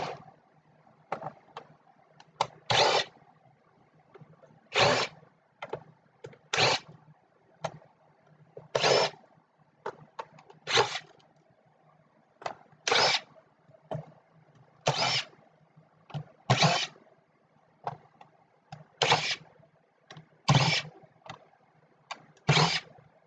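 A power driver removes screws from a computer keyboard in repeated short whirring bursts, each lasting under a second, separated by quieter handling clicks and rattles, close up with no talking.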